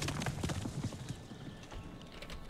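Horse hooves clip-clopping at a steady trotting rhythm while riding in the video game Above Snakes, fairly close, with the beats fading slightly toward the end.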